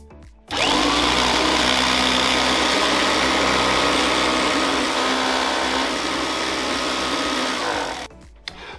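A Kirby Classic III vacuum cleaner motor runs loud and steady for about seven seconds, starting abruptly and cutting off near the end, with a constant whine and hum and no talk.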